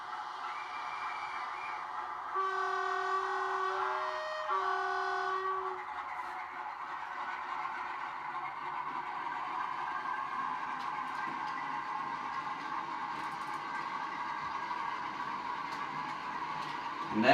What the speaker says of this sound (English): Off goes the Class 47. A little freight train behind it.